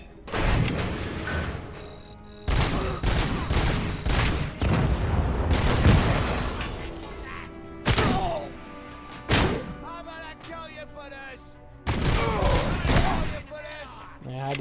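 Bursts of gunfire from the video game RoboCop: Rogue City come in several loud, dense volleys separated by short pauses, with a voice talking intermittently between them.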